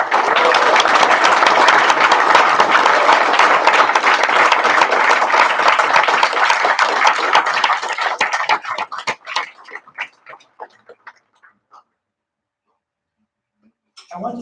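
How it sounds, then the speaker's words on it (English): Graduation ceremony crowd applauding graduates, dense sustained clapping for about eight seconds that thins into scattered individual claps and fades to silence, a voice starting at the end. "Let's give one big round of applause for all of our graduates with diplomas in hand."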